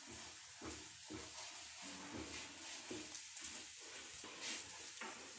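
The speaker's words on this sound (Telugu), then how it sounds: "కొద్ది కొద్దిగా ఆయిల్ పెట్టుకుంటూ కాల్చుకోవాలి" A layered chapati roasts on a hot pan with a little oil, giving a soft, steady sizzle with faint rhythmic scraping or pressing sounds, fairly quiet and close, with no talking.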